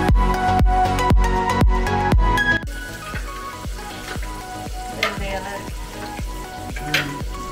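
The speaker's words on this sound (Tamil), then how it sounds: "அடுத்தது பூண்டு, பூண்டு போட்டு வதக்கிட்டு" Garlic sautéing in a pan over steady sizzling, with repeated sharp stirring or scraping knocks against the pan, quicker at first and then spaced out, close by.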